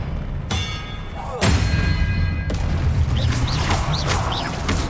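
An Expelliarmus spell is cast in Hogwarts Legacy with a sudden loud whoosh and impact burst, followed by sustained magical rumble and shimmering tones, with a voice calling out spell names over the effects.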